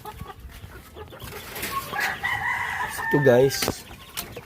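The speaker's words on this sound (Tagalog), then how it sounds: "Yung mga manok natin." Chickens cluck and a rooster crows on a farm where rabbits, turkeys and chicks are also kept, the crow rising clearly near the end over steady background clucking, with someone speaking briefly.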